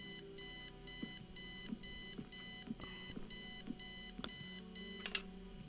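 An in-game alarm clock in the adventure game Kathy Rain, set in 1995, rings with a steady run of about ten rapid electronic beep bursts, joined near the end by faint clicks and a soft thump.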